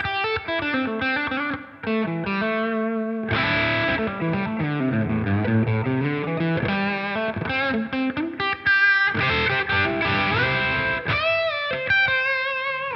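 An electric guitar through a Line 6 Helix overdrive/distortion model, gritty sustained notes and bends with a low melodic run, played alone at a steady loud level with brief gaps between phrases.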